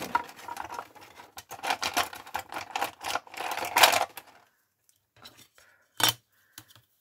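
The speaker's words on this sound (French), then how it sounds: "je marque mon pli avec mon" Paper creased along a fold with a bone folder, a run of dry scraping and rubbing strokes, close and loud, then silence broken by a couple of sharp taps.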